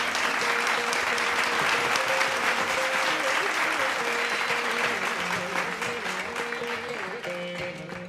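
Sustained, loud applause from an audience at a Bharatanatyam arangetram, honouring the makeup artist, with a steady tone running beneath and a slight fade toward the end.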